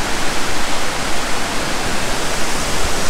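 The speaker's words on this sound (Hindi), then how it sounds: "और ये नीचे बह रही है सतलुज नदी।" The Sutlej river rushes loudly through the Kinnaur valley, a dense, constant roar of fast water with no voices over it.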